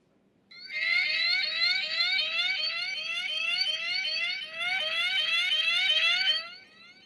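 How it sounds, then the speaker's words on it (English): A loud, shrill electronic pager alert repeats in rapid regular chirps for about six seconds, then stops abruptly. "This is the sound of an Amazon pager."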